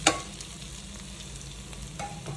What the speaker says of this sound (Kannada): ಎಲ್ಲ ಹಾಕಿಬಿಟ್ಟು ಚೆನ್ನಾಗಿ ಫ್ರೈ ಮಾಡ್ಕೊಬೇಕು